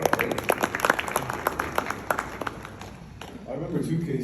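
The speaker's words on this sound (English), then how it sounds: "let's give it a round of applause" Audience applause at a patient-experience practice automation mastermind session, a burst of scattered claps fading over a few seconds as talk and murmur rise underneath.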